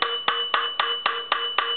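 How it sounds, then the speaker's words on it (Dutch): A hammer tapping on a valve stem in a 650 engine cylinder head during machining work: seven sharp, evenly spaced metallic taps, close and clear, with a short ringing decay after each strike. "Want jij staat daar te klappen met je hamer."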